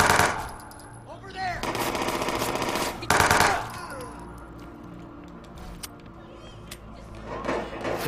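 Automatic gunfire in Watch Dogs 2 rips out in two loud machine-gun bursts, one early and one near the middle, separated by a quieter stretch of game noise, with no talk.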